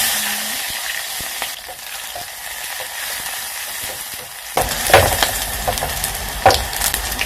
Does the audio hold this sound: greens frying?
yes